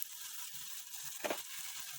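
Onions fry in a pan as ginger garlic paste is mixed in for a prawn gravy, a quiet steady hiss broken by a short scraping stir near the middle.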